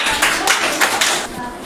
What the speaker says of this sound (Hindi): बैठ जाइए, ताली बजाइए इसके लिए।